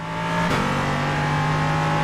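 LMP3 race car engine in the iRacing video game at the Montreal circuit, a steady high-pitched drone that jumps to higher revs as the throttle opens, holding strong and level without voices.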